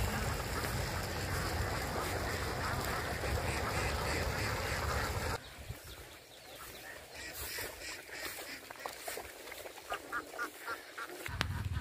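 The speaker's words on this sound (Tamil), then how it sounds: "வயல்வெளிகள், அறுவடை செய்யப்பட்ட நிலங்கள் உள்ளிட்டவற்றில் இதுபோல வாத்து கூட்டங்கள் அதிக எண்ணிக்கையில் மேய்வதை காண முடிகிறது" A flock of ducks grazing in harvested paddy fields in rural Kerala quacks and honks continuously, a dense overlapping chorus that is loud in the first half and thins to scattered, nearer calls later.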